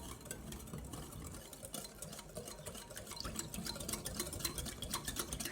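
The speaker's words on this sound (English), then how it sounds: "we're going to just stir this" A stir fry with a spoonful of regular cornstarch being stirred in a stainless steel pan, a quiet, rapid scraping and clicking of the utensil in uneven bursts that grow a little busier toward the end.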